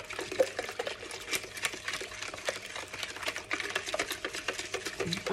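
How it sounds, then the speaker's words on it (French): Crêpe batter of sugar and eggs is stirred quickly in a bowl, giving a fast, even, rattling clatter of the utensil against the bowl with a faint wet swish, close and fairly quiet. "Je remue."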